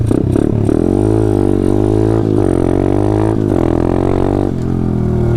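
A Taotao DB17 125 dirt bike with an upgraded carburetor pulling away from a full stop, its engine loud and close, pitch climbing through rising revs with brief dips at each gear change.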